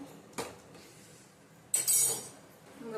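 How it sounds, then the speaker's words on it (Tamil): A metal plate is set as a lid over a cooking pot of greens, giving two close clinks a moment apart, the second a brighter, longer metallic rattle. "இப்போ பிளேட்டை போட்டு மூடி வச்சுக்கலாம்"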